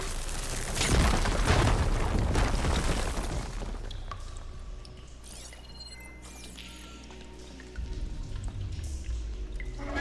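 A heavy explosion in Horizon Forbidden West bursts loud and broad after something is set on fire, then rumbles and decays into a quieter watery ambience with low drones.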